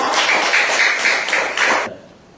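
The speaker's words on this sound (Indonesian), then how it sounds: "Tepuk tangan buat teman kita" Students in a classroom applaud a classmate in a quick rhythmic pattern of about six bright group claps close by, which then stop suddenly into near silence.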